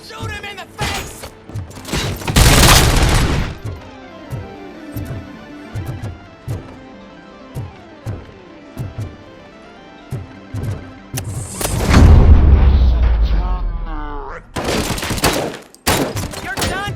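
Gunfire in the video game RoboCop: Rogue City, with loud bursts of shots and impacts, heavy blasts around 2–3 s and again near 12–16 s, and quieter rapid shots between them.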